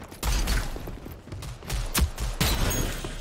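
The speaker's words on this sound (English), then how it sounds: "we're getting shot from behind" Gunfire in the video game Rogue Company, several bursts of shots cracking in quick succession, fairly loud, with a sharp peak near the middle and no talking.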